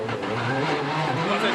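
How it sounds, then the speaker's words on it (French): Rally cars on a rain-soaked vineyard stage at Rallye de France Alsace, engines straining and revving with a steady roar and wheelspin, loud and continuous over a short stretch. "entend les voitures, les roues qui patinent, des moteurs qui s'emballent"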